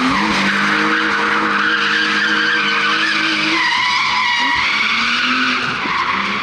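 A BMW E46 with a naturally aspirated engine drifts around a flowing drift track in Portugal, engine roaring loudly and steadily under a long continuous tire squeal, close and unbroken throughout.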